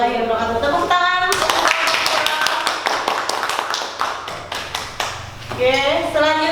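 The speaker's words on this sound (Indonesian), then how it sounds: "Tepuk tangan." A classroom audience claps after a group presentation, a burst of sharp, uneven hand claps and taps that thins out, with voices talking just before and after.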